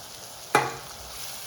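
Boiled potato with hot byadgi chilli powder tossed in a pan, with one sharp stir-and-sizzle burst at about half a second that fades quickly into a low, steady hiss.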